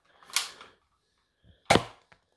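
A Nerf toy blaster fires twice, each a sharp snappy pop with a short rattling tail, well separated, near and moderately loud, followed by a faint small click.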